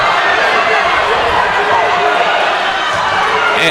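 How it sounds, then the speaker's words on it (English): Crowd noise swells in a dense, continuous roar of voices at a high school varsity basketball tournament game, an unhappy reaction to a foul filling the gym, with an announcer talking over it. "And the crowd's not happy about that one"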